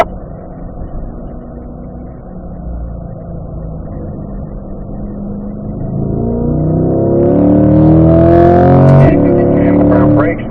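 A car on a track engine note climbs as it accelerates through the gears, rising from a low drone to a louder revving whine, with a person talking over the engine.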